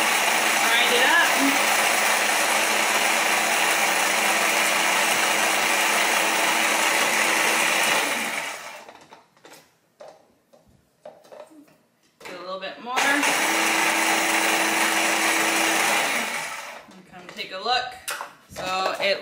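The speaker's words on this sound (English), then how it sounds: "I've just loaded it into our little tiny food processor." A small food processor grinding freeze-dried spinach, a loud whirring buzz in two long runs with a quiet stretch of rustling and handling between them, and brief talk nearby.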